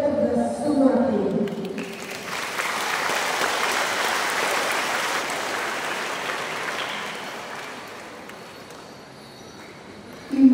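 An Easter Mass congregation inside a parish church in Pontianak gives a long round of applause. Dense, steady clapping swells early, holds, then slowly fades, with a voice heard briefly at the start.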